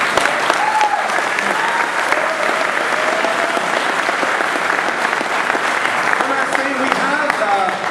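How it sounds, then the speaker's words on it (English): A large audience claps and cheers steadily at a game project presentation event, a dense wash of applause filling the whole stretch. "give it another hand for all three studios"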